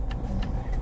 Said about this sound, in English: This was what I was telling you about traffic in Abidjan, right?